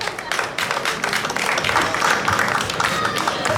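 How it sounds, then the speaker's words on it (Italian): An audience claps through a speech, with dense, steady applause and crowd murmur building slightly in the middle, fairly loud and continuous. "Grazie per l'applauso che l'ho sentito arrivare."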